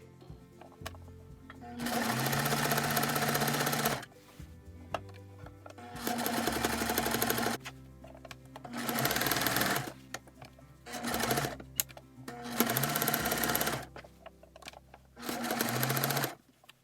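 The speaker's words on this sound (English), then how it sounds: "that's the easiest way for me to sew this thing on" Sewing machine stitching a fabric cover for a thrifted bedroom bench, running in six loud, close bursts of rapid whirring, each a second or two long, separated by short quiet pauses.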